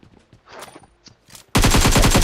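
Gunfire in the shooter game PUBG Mobile: after a few soft scattered clicks and thumps, a loud sustained burst of rapid automatic fire erupts and continues to the end.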